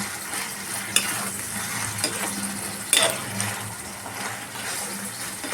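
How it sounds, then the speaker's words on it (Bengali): Spinach sizzles steadily as it fries in a pan, with a few sharp clinks and scrapes of a utensil against the pan, close and fairly loud, with no one talking. "তো আমি এখানে ফ্রাই করে নিচ্ছি"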